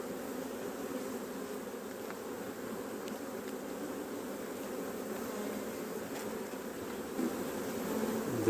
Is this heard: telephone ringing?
no